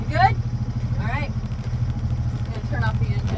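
A boat's engine idles steadily at anchor in a harbor, a low continuous rumble running throughout beneath intermittent chirpy sounds and background voices.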